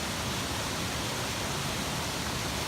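Waterfall near Davis Lake in the High Sierra between Mammoth and Yosemite: a steady, broad rush of falling water, unbroken and fairly distant, with no voices.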